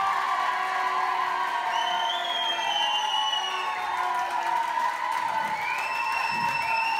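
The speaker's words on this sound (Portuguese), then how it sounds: "Uma salva de palmas para vocês para o casal número 2!" Crowd at a ballroom dance program applauding and cheering for couple number 2, a continuous loud roar of voices and whoops with clapping mixed in, steady for the whole stretch.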